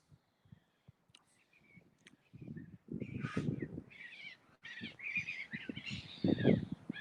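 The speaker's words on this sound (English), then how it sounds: "it sounds like there's some crazy birds flying about" Several crows cawing harshly, some near and some farther off, in irregular bursts over a quiet outdoor background.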